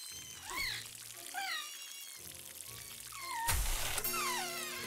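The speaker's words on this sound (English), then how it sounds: "now we need the watering can" Water pours from a watering can in the Harry Potter Kinect game on Xbox 360, a steady trickling stream with brief louder splashes, heard alongside bright chiming game tones and music.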